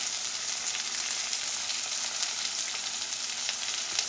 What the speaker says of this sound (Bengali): এগুলোকেও 2-1 মিনিট নাড়াচাড়া করে নেব।